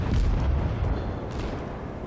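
Guns of a US Sampson destroyer firing at the cruiser St. Louis in World of Warships: a dense, loud, continuous low booming rumble lasting about two seconds, with no voices.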